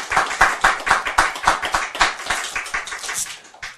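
Rhythmic clapping from an audience at a Buddhist sutra lecture, a close, steady pulse of roughly four claps a second in unison for almost four seconds, tapering at the end.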